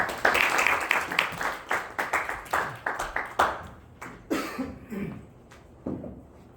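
Scattered, fairly light clapping from a seminar audience welcoming a university presenter, uneven claps that thin out over several seconds, with a few coughs and faint throat clearing mixed in.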